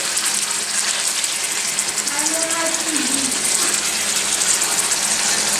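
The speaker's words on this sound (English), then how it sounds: "Salted chicken, hot olive oil." Loud, continuous hiss of salted chicken frying in hot olive oil, a broad sizzling wash with a brief low murmur partway through.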